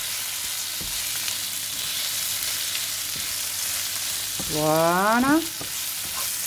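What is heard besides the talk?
stirring rice frying in juice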